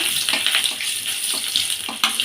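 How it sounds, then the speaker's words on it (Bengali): Garlic cloves fry in hot oil with a loud, close, busy sizzle and rapid crackling, broken by a few stirring scrapes, no talking. "এবারেতে কিছু রসুন কোয়া দিয়ে ভেজে নেব"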